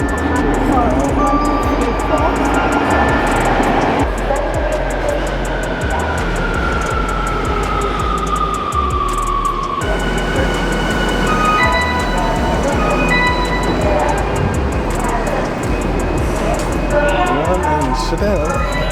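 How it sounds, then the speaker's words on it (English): A train carries passengers toward Yokohama, Japan, with a loud, continuous rumble of rolling wheels and carriage noise and a rising whine from the motors. "So, this is our first train ride."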